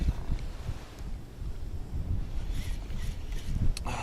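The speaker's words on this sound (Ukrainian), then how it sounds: "Вітер піднявся." Gusty wind buffets the microphone with a low, rumbling roar that rises and falls, and water lapping faintly underneath, on an autumn pike-fishing outing.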